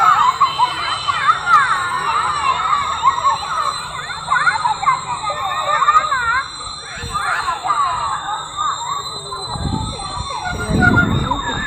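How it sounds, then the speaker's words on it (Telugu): Children scream and shout while playing in a park with horse rides, a busy mix of high shrill cries and calls rising and falling continuously, with an adult talking nearby and low background rumble. "పిచ్చి కేకలు పిచ్చి అరుపులు అరుస్తూ ఉన్నారు."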